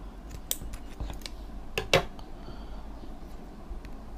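Scissors snip through a length of rope while making a rain gutter hanger, giving a few sharp cutting clicks and one louder snip near the middle, close and alone.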